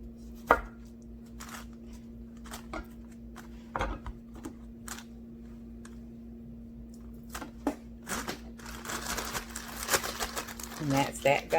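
A knife slices fruit on a cutting board for spa water, giving a run of crisp, separate close taps and cuts with a few rustles, growing busier toward the end, with no talking.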